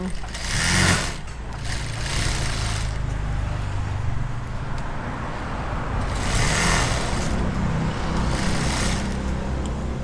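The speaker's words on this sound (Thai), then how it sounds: "ย้ำตะเข็บให้ลูกค้าอีกหน่อยย" Sewing machine reinforcing shirt seams, running in short loud bursts with a rapid mechanical chatter and brief pauses between, close by.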